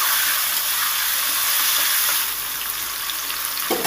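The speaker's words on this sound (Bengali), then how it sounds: "সজনের ডাটাগুলো দিয়ে খুব একটা বেশি ভাজবো না হালকা করে নেড়ে চেড়ে আমি তুলে নেবো" Drumstick (moringa) pods lightly frying in oil, a loud, dense hiss of sizzling that eases a little partway through, with faint stirring taps and a knock at the end, no talking.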